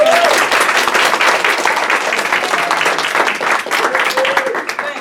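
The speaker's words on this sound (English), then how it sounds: "So let's give a round of applause to the man of the hour." An audience at a Black cultural celebration breaks into loud, sustained applause and clapping for an honored guest, with a few voices and cheers mixed into the steady clatter.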